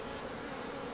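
Honey bees buzzing steadily and close during a hive inspection of a newly made swarm colony, a dense, even drone with no pauses.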